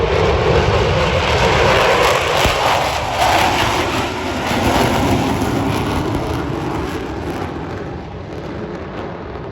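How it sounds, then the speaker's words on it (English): Blue Angels jets roar past at an air show in Pensacola, Florida, a loud, continuous broadband rush of jet engine noise that swells and slowly fades over nearly ten seconds. "Watch as he slides his jet underneath number 2 into the slot."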